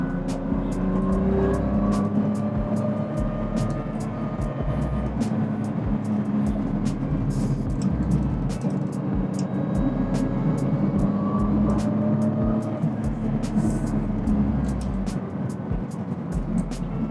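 BMW M3 G80 on coilovers driving a race track, its steady engine drone loud and continuous throughout, with faint knocks and thumps from the suspension as the car crosses bigger bumps.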